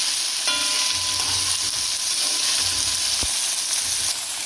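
Okra fries in a pan Trinidad style, a steady bright sizzle close up with occasional soft stirring scrapes and a short clink, no talking.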